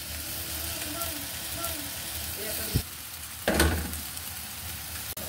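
Vegetable noodles go into a hot pan and fry with a continuous sizzle, broken by two louder hissing bursts and a stir, while a voice talks over the cooking.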